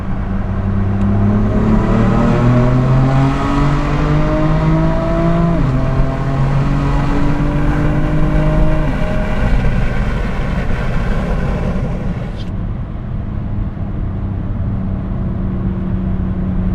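A BMW F80 M3 with stock exhaust and an aftermarket downpipe revs inside a tunnel, its engine note climbing through several gear pulls with booming echoes before settling into a steady cruising drone.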